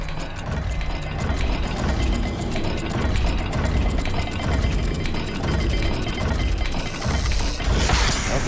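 Turning dial puzzle mechanism in Hogwarts Legacy: continuous ratcheting, clicking gear sounds grinding steadily throughout, loud and close, ending with a heavier clunk.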